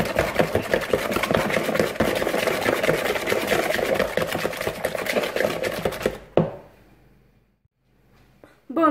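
Egg yolks whipped with sugar for a speculoos and coffee tiramisu make a steady, fast, rhythmic whirring and rattling for about six seconds before stopping abruptly into near silence.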